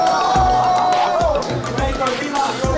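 A dense murmur of crowd chatter fills a Super Smash Bros. Melee tournament venue, steady overlapping voices close around with scattered sharp knocks and clicks throughout.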